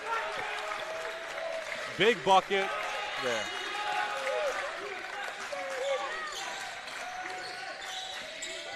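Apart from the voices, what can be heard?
crowd cheering at a basketball game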